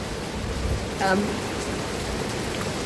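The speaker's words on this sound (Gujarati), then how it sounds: "તમે જોઈ શકો છો કેવો મસ્તીનો વરસાદ આવે।" Heavy monsoon rain falls steadily outside a home after days of continuous downpour, a soft, even hiss of drops throughout, with a brief louder patter near the middle.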